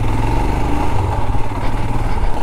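A Royal Enfield Himalayan motorcycle engine runs steadily and close, a loud, even low thrum with a rough pulsing rhythm and no speech over it.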